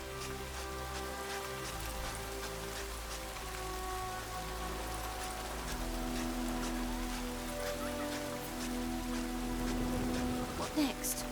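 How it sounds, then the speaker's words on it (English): Steady rain falls throughout in The Witcher 3: Wild Hunt, a broad hiss of drops over the fields under a low constant drone, with faint tonal game sounds running beneath it. "Let it rain. Wash the blood from the fields."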